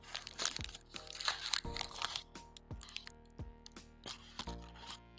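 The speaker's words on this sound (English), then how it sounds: "Unwrapping ASMR." Chocolate cream candy being unwrapped, its wrapper crinkling and crackling in a close, busy run of rustles and sharp crisp snaps, with no talking.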